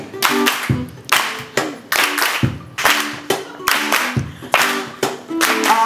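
Steady rhythmic hand clapping at a lively performance, loud sharp claps repeating in an even beat for several seconds with faint singing or voices underneath.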